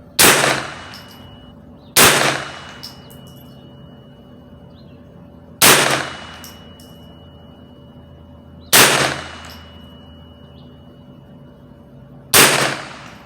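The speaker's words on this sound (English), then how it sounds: "First 5 shot, I'm gonna take it with SK standard ammunition" Five sharp, loud rifle shots from an HK416 chambered in .22LR firing SK standard ammunition ring out alone, spaced roughly two to three seconds apart, each with a short decaying tail.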